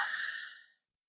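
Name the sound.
breathing into the microphone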